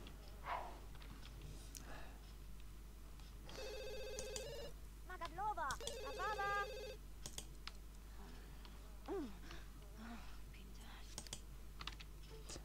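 A telephone rings twice in The Sims 2, each ring a short electronic burst, set against soft game sounds, keyboard typing and a quiet voice.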